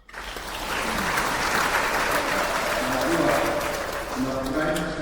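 A congregation in a church applauds and cheers students at a celebration, with dense, sustained clapping that swells and holds for about five seconds.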